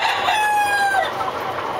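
Novogen PS medium-weight pullet chickens cluck and crow close by, with a short drawn-out crow over a steady farmyard background.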